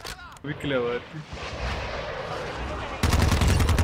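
TR-76 Geist rifle fire in Call of Duty: Modern Warfare II, a rapid burst of loud shots near the end after a stretch of game noise and brief talk.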